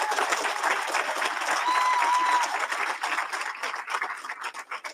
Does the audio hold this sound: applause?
yes